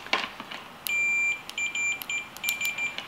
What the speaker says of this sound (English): I'm just gonna pick up my multimeter here and put it on our continuity setting